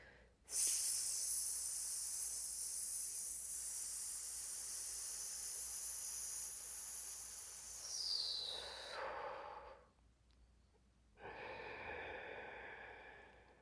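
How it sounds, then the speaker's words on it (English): Deep, deliberate breathing exercise: a long, loud, steady breath is pushed out for several seconds, then trails off, and after a short pause a second slow breath follows, close and clear with no talking. "Push all of the breath out. Inhale consciously."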